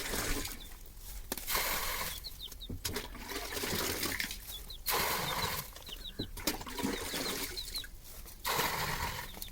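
Water is scooped out of a catfish tank and poured away in repeated splashing pours, each a burst of gushing liquid followed by short quieter gaps.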